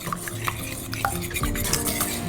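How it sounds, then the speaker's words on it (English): A hand whisk works gently through lemon bar ingredients in a bowl, making soft, rhythmic scraping and light tinkling against the bowl in quick repeated strokes, close and alone with no speech. "use a hand whisk to whisk them together really gently"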